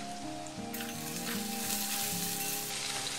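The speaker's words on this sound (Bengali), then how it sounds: "এটা একটু ভেজে নেব ভালো করে" Small cauliflower pieces frying in oil with turmeric and salt, a soft, continuous sizzle that flares brighter for a moment and settles back, with no voices.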